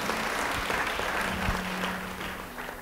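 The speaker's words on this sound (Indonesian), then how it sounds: "Ya, beri tepuk tangan bagi dia." Church congregation clapping together, a thick steady burst of applause close by, tapering slightly toward the end with a faint hum beneath.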